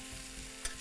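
Onions and garlic stirring in a hot pan where meat was just browned, a soft, steady sizzle with a brief scrape of the spoon near the end.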